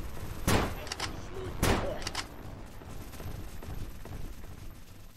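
Shotgun blasts in a World War II shooter with anime-style characters: two loud, sharp booms about a second apart, each trailing into a short rattle, followed by a low background of distant battle noise.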